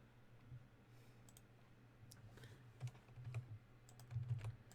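Typing on a computer keyboard, faint and close, with irregular clusters of light key clicks and a few louder taps over a low background hum.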